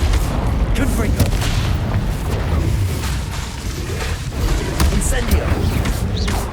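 Repeated Confringo fire-spell explosions in Hogwarts Legacy, dull booms bursting one after another amid continuous combat noise, loud and close throughout with no pauses.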